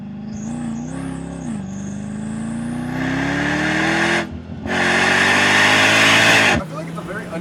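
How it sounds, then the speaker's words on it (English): A Mercedes engine with a supercharger under acceleration, its intake whine rising steadily in pitch, then a brief dip at a shift before surging again, heard from inside the cabin; voices talk over it. "You can hear the intakes when the supercharger's going."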